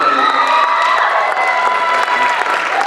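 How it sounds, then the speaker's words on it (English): Loud, steady applause with cheering and whoops from an audience at a spoken word poetry showcase, sustained throughout without a break. "Another round of applause for Mr."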